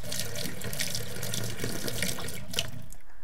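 Video game sound of water pouring steadily like a running tap into a basin in a horse-care game, a continuous splashing hiss that cuts off at the end.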